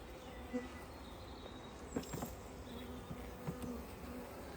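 Angry honey bees swarm close around a beekeeper's veil, their dense buzzing droning continuously with a few louder passes near the ear.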